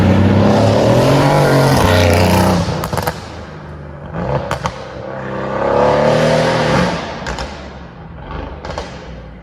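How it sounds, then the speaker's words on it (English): A loud V8 car engine, either a 4-liter or a 6.2-liter unit, revs hard in long rising and falling pulls with short sharp bursts between, close to the microphone with no talk. "This car is super loud."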